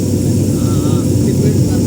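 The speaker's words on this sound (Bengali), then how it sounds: "হ্যাঁ, আমরা ঢুকে গেছি ঢাকা ইন্টারন্যাশনাল এয়ারপোর্টে, বাকিটা এখনই হয়তো ঠিক ল্যান্ডিং করবে।" A passenger airplane's engines roar loudly and steadily from inside the cabin as it comes in to land at Dhaka International Airport, a dense, continuous rumble filling the short stretch.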